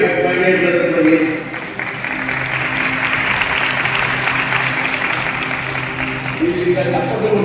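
Steady applause from a congregation inside a church in Bellampalli town during special prayers, dense and continuous for the whole stretch, with a faint sustained musical tone underneath.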